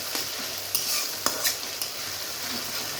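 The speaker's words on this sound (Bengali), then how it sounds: "এবার একটু ভেজে নিব, আর একটু ভেজে নেব, যেন আদা রসুনের কাঁচা গন্ধটা না থাকে।" Ginger garlic paste fries in a pan with a low, steady sizzle, while a utensil scrapes and clinks against the pan a few times; no speech.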